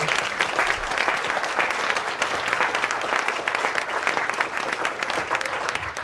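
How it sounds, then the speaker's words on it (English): An audience at the Bird Brain 2024 talk applauds, a dense, steady wash of many hands clapping at even loudness throughout, with no speech over it. "A quick round of applause to everybody"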